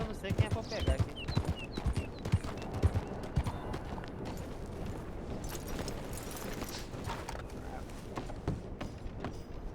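Horse hooves clip-clop in Red Dead Redemption 2, with a steady galloping clatter of repeated hoofbeats and scattered sharper knocks mixed into busy game sound throughout.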